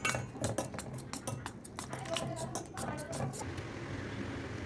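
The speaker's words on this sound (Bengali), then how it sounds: "এবার এটাকে আমি পিস পিস করে কেটে নেব" A knife cutting a bread snack into pieces on a hard surface, a quick run of close, crisp taps and clicks that thins out over a faint steady background hum.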